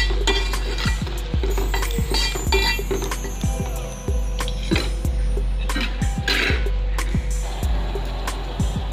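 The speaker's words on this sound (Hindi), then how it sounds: "अब हम उसमें बारीक कटा हुआ टमाटर डालेंगे। इसे भी हम अच्छे से मिक्स कर लेंगे।" A spoon stirs finely chopped tomato into egg curry in a metal pan, giving a steady run of sharp clinks and scrapes against the pan at a brisk, regular pace, close and clear.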